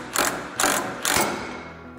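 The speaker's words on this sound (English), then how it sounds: "And then we'll tighten up this forcing screw and just see what happens." Three quick ratcheting bursts from a 19 mm wrench tightening the forcing screw of a ball joint press on a Toyota Tacoma, each a short rasping clicking sweep, close and clear with no voices.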